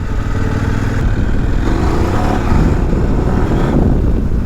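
Kove 800X Rally motorcycle ridden off-road in sport mode, the engine loud and close, surging and revving unevenly as the throttle works, with no talking.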